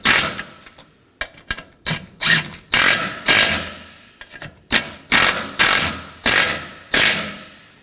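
Ratchet tightening the front lower bumper bracket and horn bolts on a 2015-2023 Nissan Maxima, heard as a series of close, loud bursts of rapid clicking with short pauses between strokes and no talk.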